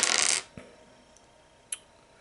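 Three eight-sided dice clatter briefly across a tabletop during a tabletop role-playing game, making a short rattling burst followed by two small isolated clicks as they settle, fairly close with no talk.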